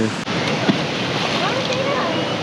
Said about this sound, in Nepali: यो चाहिँ on the way to Manang जाँदाखेरि देखिने टाक्रिङ झरना